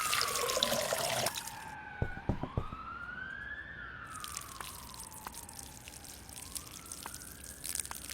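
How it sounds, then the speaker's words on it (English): Watering can pouring water in the Schedule 1 video game, a soft splashing trickle alongside sliding game tones and a few sharp clicks, all at moderate, even level. "I need to get that watering can, so we'll just top this up"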